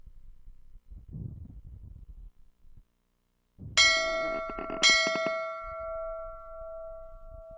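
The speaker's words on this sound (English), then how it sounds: "A bell." In the Wii game I Spy: Spooky Mansion, a bell rings twice in quick succession, each strike bright and clanging with a long shimmering decay. Soft rustling game ambience plays before and after the strikes.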